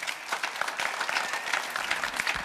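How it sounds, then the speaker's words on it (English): Steady audience applause at a mayoral candidate forum in Irvine, 2024, dense clapping filling the room at an even level for a couple of seconds with no talk over it. "Let's give another big round of applause"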